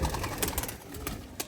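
Pigeons on a rooftop where a net is being laid coo in soft, short bursts, mixed with light fluttering and scuffing close by.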